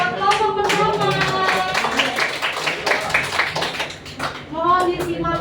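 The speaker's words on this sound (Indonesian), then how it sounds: "oke kita beri tepuk tangan buat kelompok pertama" An audience claps in a mixed, uneven rhythm for the first group at a classroom or community gathering, close and fairly loud, while voices talk and call out over the clapping.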